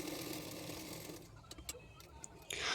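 Sewing machine stitching a blouse piece: a fast, even mechanical whirr for about a second, then stopping into scattered clicks and taps, with a louder rustle at the end; fairly quiet and close.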